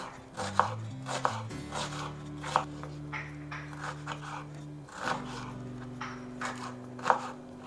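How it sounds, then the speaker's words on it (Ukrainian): Steady knife chopping an onion into small dice on a cutting board, quick irregular strikes in bursts over a low musical background, close and clear. "Поріжемо одну цибулину мілко кубиками."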